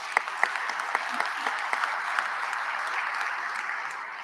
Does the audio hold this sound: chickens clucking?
no